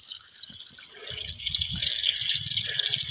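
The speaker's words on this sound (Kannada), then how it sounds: "ನೀರು ಬರಾಕತ್ತೈತಿ ಇಲ್ಲಿ" Water runs from a newly repaired pipe feeding a small home fountain, a steady splashing and trickling flow close by that grows slightly stronger, with no talk over it.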